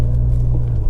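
A Jeep on bald tires pulls in with a deep, steady low engine rumble that stays close and constant for the whole second.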